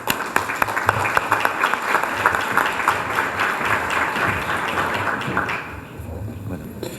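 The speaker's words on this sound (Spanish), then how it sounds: "para quien voy a pedir un fuerte aplauso" Applause welcomes the speaker at an academic symposium on fisheries and aquaculture, a dense, loud crowd of clapping with crisp individual claps that holds steady for several seconds and then fades away.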